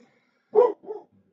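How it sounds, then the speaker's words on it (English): A dog barks indoors, one sharp fairly close bark followed by a shorter, softer second bark, alone in an otherwise quiet room. "Sorry about the dog."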